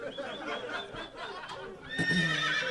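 A horse neighs as a comic sound effect, a long loud whinny that rises and wavers over a couple of seconds, heard alone with no voices.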